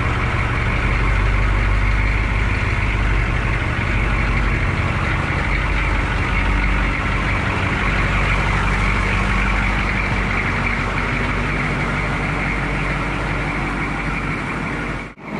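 An inherited 6.2L diesel GMC Square Body farm truck runs steadily, a low, even rumble held close and continuous for the whole stretch with no talking.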